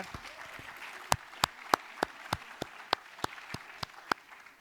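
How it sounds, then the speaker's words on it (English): Applause from the audience at a closing session comes through as a regular series of crisp, fairly close claps, steady and moderately loud over a soft crowd background. "Please, a round of applause for this."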